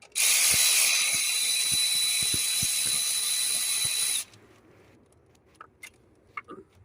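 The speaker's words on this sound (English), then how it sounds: "Just get the ratchet on there." A ratchet turns on the glow plugs of a Ford Transit Custom, giving about four seconds of loud, continuous rapid clicking up close. It then cuts off, leaving only a few faint taps and small knocks.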